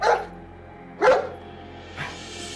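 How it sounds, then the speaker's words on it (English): A dog barks three times at roughly one-second intervals, fairly close, with the last bark softer; quiet between barks. "All of a sudden, she started barking."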